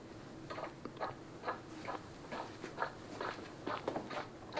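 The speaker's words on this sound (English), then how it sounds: "if we have detected a pedestrian, we play a footstep sound." Recorded shoe footsteps played as an auditory cue for a detected pedestrian in remote road vehicle operation: a steady series of soft, evenly paced steps over a hushed background, with no talking.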